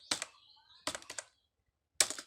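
Keys clack on a computer keyboard in three short separated bursts, a few quick strokes then a single firmer press like the Enter key, close and crisp in a quiet room with no voice.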